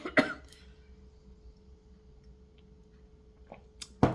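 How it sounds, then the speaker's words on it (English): After a sip of tea a woman gives a short cough and splutter, two close, brief bursts at the start, then near silence with a faint steady hum before another small cough at the end. "There was a little cough and a splutter."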